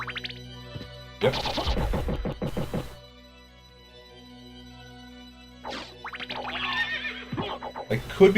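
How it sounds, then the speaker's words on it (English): Horses whinny in Castlevania: Symphony of the Night, with a loud burst of neighing near the start and another later on, set against a quiet sustained game music drone. "I think there are horses down here."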